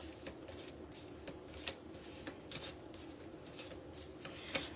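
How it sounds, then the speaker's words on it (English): Soft riffling and light snapping of cards being shuffled, quiet and close, with a few sharper flicks scattered through. "So when we shuffle the deck"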